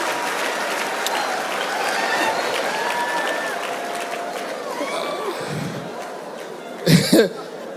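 A crowd applauds steadily and fairly loudly, with a few cheers and whistles mixed in, then a brief louder clatter near the end.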